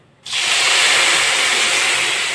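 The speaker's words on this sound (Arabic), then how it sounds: "هننزل عليها بالشربات وهو سخن" Cold syrup poured onto hot, freshly cooked kunafa, giving a loud, steady hiss and steam rush that begins abruptly after a brief quiet moment and holds nearly constant.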